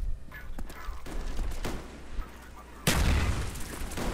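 Gunshots in the video game Black Ops, several sharp cracks and booms spread over a few seconds, ending with one louder close blast, with people talking during the shots.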